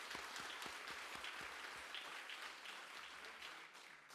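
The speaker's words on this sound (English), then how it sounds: "Can we give Amy another round of applause?" Applause for Amy from an audience at a speaking event, a steady wash of many hands clapping at once, fairly quiet overall, with a few distinct claps standing out near the start before it fades slightly.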